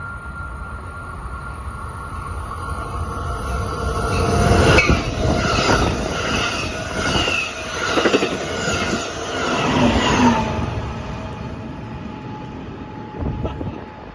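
At Laguna Niguel station a train rolls past, loud and steady, with rhythmic wheel clatter over rail joints and a high metallic squeal from the wheels, swelling and fading over several seconds.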